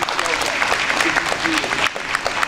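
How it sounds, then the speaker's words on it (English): Audience applause at an African naming ceremony, a dense, sustained clapping from a crowd filling the whole stretch at moderate distance, with some voices mixed in. "So let's applaud them for being here."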